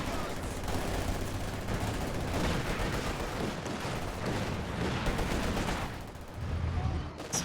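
MG42 machine gun fire in a video game match, dense sustained bursts of rapid gunfire mixed with other battle noise, loud and continuous with a brief lull near the end.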